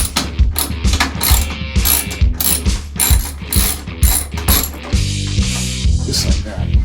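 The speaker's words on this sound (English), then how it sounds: "we're going to use 1/4 inch socket. And what we're going to do is we're going to remove the screws for the unit" A ratchet fitted with a 1/4 inch socket clicks rapidly and loudly at close range, backing out screws from a Kenmore washing machine, in bursts of ratcheting followed by a steadier mechanical whir.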